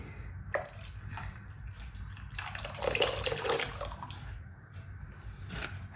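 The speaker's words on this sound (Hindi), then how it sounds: "तो यहाँ पे अब मैं इमली की चटनी डाल दूँगी।" Tamarind chutney poured into a cooking pot gives a soft liquid splashing and trickling that swells mid-clip, with a few small clinks, fairly close and moderately quiet.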